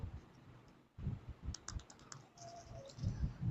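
Three quick, sharp button clicks on an Audio Arrya AM-W17 wireless microphone come in a rapid cluster, close and fairly quiet, with faint handling noise around them.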